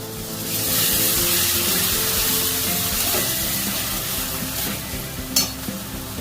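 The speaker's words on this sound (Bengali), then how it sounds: "মশলাটা খুব ভালো করে কষে নিচ্ছি" Spice paste for an egg poach curry sautés in a pan with a bit of water, giving a steady close sizzle with stirring scrapes throughout and a brief louder spatter near the end.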